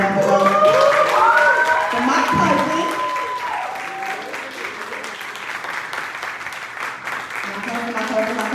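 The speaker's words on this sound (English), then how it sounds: "Clap it up." Audience applause at an AI conference event, a sustained wash of clapping from a crowd, loud and fairly close, with a voice talking over the start and music-like tones underneath.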